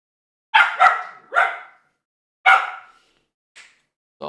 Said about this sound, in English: Start with the woofing, please.